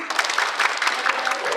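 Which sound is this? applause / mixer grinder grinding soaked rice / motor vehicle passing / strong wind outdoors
applause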